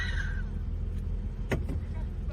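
A Renault 4L engine idles steadily after a push start during the 4L Trophy rally, a low continuous rumble with a brief clunk midway.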